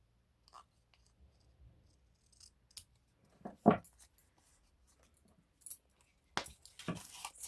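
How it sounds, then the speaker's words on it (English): Scissors trimming the edges of paper for a junk journal craft, quiet and close, with scattered faint snips and paper rustles building to a sharper cut near the middle and a few crisp snips toward the end. "I'll just trim off the edges."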